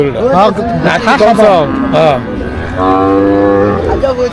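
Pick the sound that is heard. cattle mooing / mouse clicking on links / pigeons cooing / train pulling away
cattle mooing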